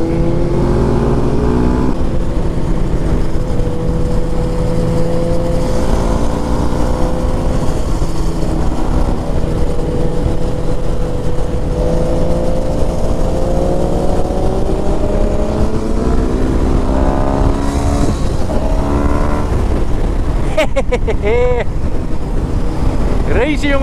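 A Yamaha Tracer motorcycle races on a group ride out, its engine revving and rising in pitch under heavy wind rush, loud and continuous, with a sharp high rev near the end.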